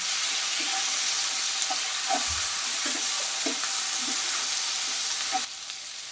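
Ginger-garlic paste, about one and a half spoonfuls, sizzles steadily in hot oil in a pan while a spoon scrapes and taps through it at an irregular pace. The frying hiss stays constant and close, with no talking.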